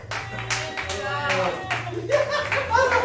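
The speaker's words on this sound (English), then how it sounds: "It wasn't even a full clap. It was a wrist clap." A studio audience at a Whose Line improv comedy show gives a weak, half-hearted wrist clap, with scattered light taps heard under a talking voice.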